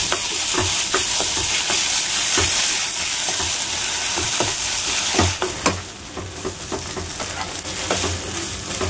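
Drained chhana (paneer) fries in a hot pan for veg cutlets, a loud, continuous close sizzle broken by repeated sharp scraping strokes of stirring.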